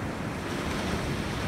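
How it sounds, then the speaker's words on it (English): Rough ocean surf roars in a steady, dense wash with wind buffeting the microphone, filling the whole clip with no other sounds. "Surf's real rough today, and it's hard to tell."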